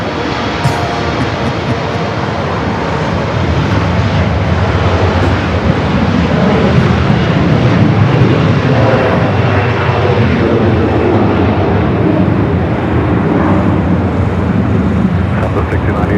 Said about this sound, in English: Up next, 737 MAX 9 United flight coming up from SFO.